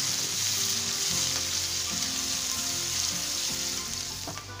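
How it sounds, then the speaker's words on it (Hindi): Chopped onions sizzle in a pan with cumin, a dense, steady frying hiss over faint low hum and pulsing, close and uninterrupted by speech. "ये कटा हुआ प्याज डाल देंगे, अब प्याज को अच्छे से"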